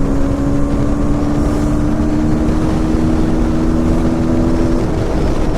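A KTM Duke 160 motorcycle engine pulls hard from a standstill, a loud, steady droning roar with a rising tone, nearly drowned in heavy wind rush. Toward the end the pitch shifts as the gear changes.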